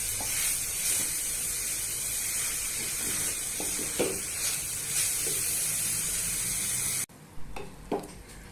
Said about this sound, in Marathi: दोन ते 3 मिनिटं मस्त हलवत राहा, खाली चिपकायला नको याची काळजी घ्या।